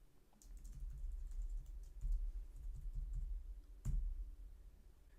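Keys clatter on a computer keyboard as a password is typed, a faint, close run of quick uneven taps with one sharper keystroke near the end.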